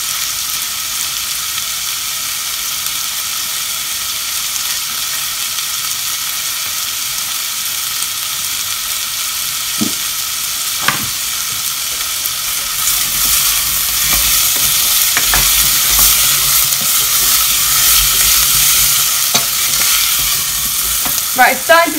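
Apple and parsnip soup ingredients sizzle steadily in a pan, with a few scraping stirs along the way; the frying grows louder and hissier partway through.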